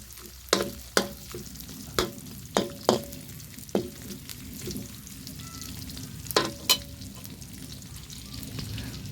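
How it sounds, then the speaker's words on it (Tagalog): Already-fried fish being stirred in a hot pan for a fish pansit dish, a steady sizzle under repeated sharp clacks of a utensil against the pan, close and without talking. "Mix po natin ang ating isda."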